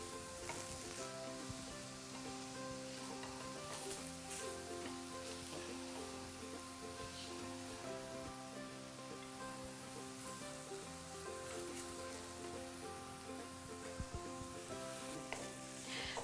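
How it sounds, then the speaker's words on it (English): Grated carrots for gajar ka halwa fry in a pan with a steady, gentle sizzle and occasional stirring scrapes, close by and without talking. "we've been frying our carrots, our Gajar ka halwa for nearly 4-5 minutes"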